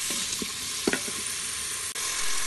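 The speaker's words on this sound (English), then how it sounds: "first add the cut onions and start cooking by stirring continuously" Chopped onions sautéing in oil in an Instant Pot on sauté mode, a bright steady sizzle with a few soft spoon knocks and scrapes from stirring near the start, close and without voices.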